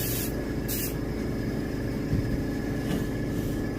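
Airbrush or spray gun hissing while painting a striped bass (rockfish) skin mount, with two short bright bursts of spray over a steady hiss and low background hum.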